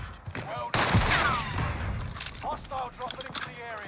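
Bursts of gunfire in a Call of Duty Rebirth Island match, loud crackling volleys mixed with game effects, with players talking over the shooting.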